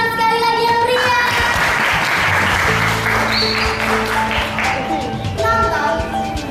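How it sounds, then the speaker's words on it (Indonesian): Loud applause from an audience at a children's school drama performance, sustained for several seconds, with children's voices and music-like tones mixed through it. "Beri tepuk tangan sekali lagi yang meriah"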